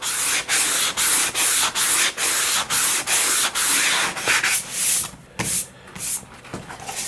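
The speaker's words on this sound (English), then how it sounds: "give this an overall sanding with 400" Close, loud 400-grit sandpaper strokes scraping back and forth over wood on an RC glider elevator in a steady rhythm, each stroke a hissing rasp with brief pauses between.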